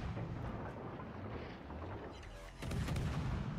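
Ship guns firing in World of Warships Legends, heavy deep booms rolling under a continuous rumbling battle din, with a louder salvo near the end.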